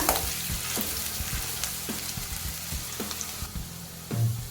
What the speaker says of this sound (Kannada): ಸ್ವಲ್ಪ ಲೈಟಾಗಿ ಈರುಳ್ಳಿ ಫ್ರೈ ಮಾಡ್ಕೊಳ್ಳೋಣ.